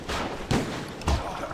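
Shotgun blasts in the video game XIII, two or three heavy booming shots about half a second apart, loud and close over a noisy game background.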